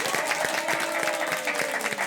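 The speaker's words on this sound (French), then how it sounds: "voulez-vous s'il vous plaît applaudir?" Studio audience at a French afternoon television show clapping together, a dense continuous burst of applause lasting about two seconds with no speech over it.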